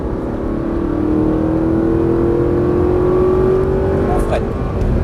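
An Audi R8 accelerating on a race track at a motorsport academy, heard from inside as a loud steady engine drone with a rising pitch that climbs gradually, with an instructor's voice over it.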